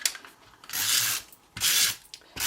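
A paper trimmer blade slides across a card layer for a layered botanical card, making two short dry rasping swipes, close and fairly crisp with quiet pauses around them.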